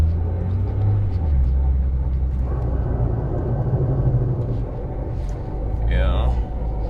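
A Nissan GTR R35 sports car's engine runs in a steady low rumble from inside the cabin while driving, continuous and fairly loud, with a brief higher tonal sweep near the end.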